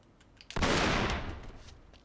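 Gunfire in the video game Uncharted 3: Drake's Deception, a single loud burst of shots that rings out briefly then decays over about a second and a half, with no speech over it.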